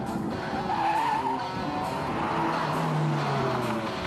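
A stunt car fitted with studded tires slides sideways across asphalt, giving a continuous, fairly loud skidding and tire squeal that runs unbroken for the whole stretch, with no voices heard.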